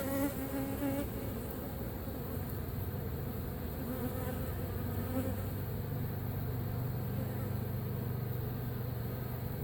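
Dense buzzing of many killer honeybees fills the air, steady and close, with a low drone persisting throughout and no talking, during open feeding after a mobile home hive removal.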